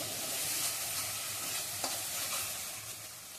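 Spice masala sizzling steadily in a hot pan for a home-cooked dish, a continuous close frying hiss with a brief stir or scrape near the middle, no voices.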